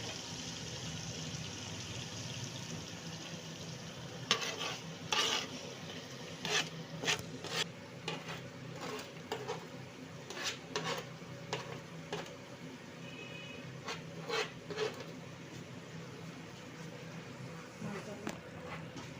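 A spoon scrapes and rubs through okra coated in garam masala and dried fenugreek in a pan, a series of uneven rasping strokes over a steady low hum, with someone speaking quietly at times.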